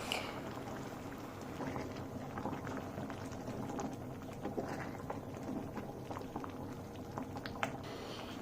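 A pot of bele soppina saaru, a lentil and greens soup, simmers and boils with a steady soft bubbling and popping, faint and close, with no talk.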